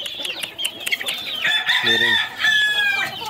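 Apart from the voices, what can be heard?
young chickens clucking in a coop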